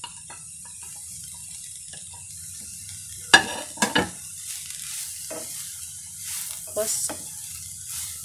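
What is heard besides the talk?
frying spring onion, capsicum, cabbage and green chilli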